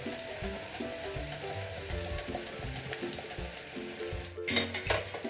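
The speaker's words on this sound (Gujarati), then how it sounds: "એક એક કેળું આ રીતે રેફર પાડતું જવાનું અને તળી લેવાનું" Banana slices frying in hot oil for crispy banana chips give a steady, close sizzling hiss throughout, swelling louder near the end, with a low tonal background underneath.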